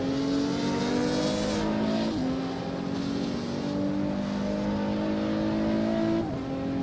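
A race car engine in Assetto Corsa accelerates down a straight, its loud whining pitch climbing through the gears with brief drops at each upshift, steady and continuous.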